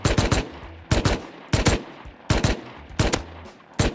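Gunfire in the survival video game Rust: about five short, loud bursts of two or three rapid shots each, separated by brief pauses, with no talking.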